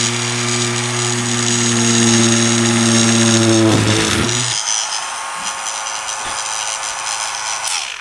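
A small drill bores a part-depth hole while building a 1/80 scale Amati Endeavour model ship, buzzing loud and close with a steady tone before winding down and stopping, followed by quieter handling noise.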